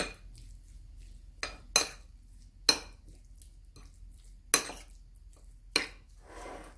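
Utensil scraping and clinking against a bowl while marinade with a little fish sauce is mixed, giving five or six sharp, separate strikes spaced irregularly over quiet background, close and moderately loud.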